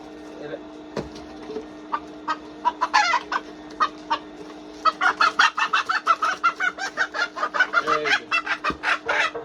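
A native rooster clucks in a rapid, repeated series of short calls, sparse at first and then dense and loud, close by, with a steady hum underneath.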